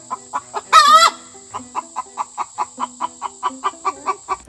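Backyard chickens in a run, some of them bantams, cluck in a steady run of short, close, repeated notes, with one brief louder squawk near the start.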